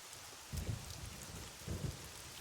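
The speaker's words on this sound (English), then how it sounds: "Right now, she's standing in the pouring rain with her umbrella up." Pouring rain hisses steadily in the video game AI: The Somnium Files, while two low rumbles of thunder roll faintly a second apart.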